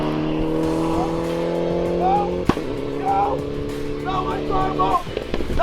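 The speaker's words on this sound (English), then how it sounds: "Next up is Mark Thompson in his Modified 4 Mitsubishi Evo 9" A modified Mitsubishi Evo 9 race car at the Spring Blaze 2022 motorsport event: a steady engine drone with a sharp knock midway and brief tire chirps, heard under ongoing talk.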